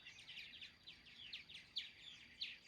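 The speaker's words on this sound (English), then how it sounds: "It's called a purple martin." A purple martin gives a steady run of quick, high chirping calls, repeated every fraction of a second, faint and distant against a quiet background.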